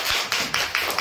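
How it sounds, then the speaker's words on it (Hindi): A few rhythmic hand claps from children in a primary classroom phonics lesson, about four evenly spaced claps in quick succession, close and moderately loud. "ताली बजाइए आप लोग।"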